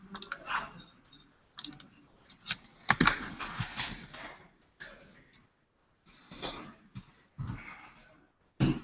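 Keys clatter on a computer keyboard in irregular bursts of rapid typing separated by short pauses, close and fairly clear.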